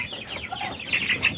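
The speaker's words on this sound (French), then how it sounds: "un dindon et un poulet Brahma" A turkey and a Brahma chicken kept together in a small integrated farm pen cluck close by, a run of short, loud clucks and squawks with no talk.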